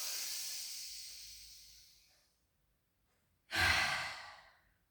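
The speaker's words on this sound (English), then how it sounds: "take a massive, as big a belly breath as you can on an inhale. Out breath." Deep belly breathing during a rehab pilates exercise: a long, loud, breathy exhale that slowly fades over about two seconds, a brief silence, then another strong breath rushing in close to the microphone.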